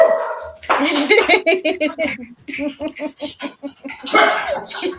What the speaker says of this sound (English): It's not my dog this time, you guys.